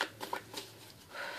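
Tarot cards being shuffled by hand, a few quick soft riffling bursts at close range, faint and brief, with no speech.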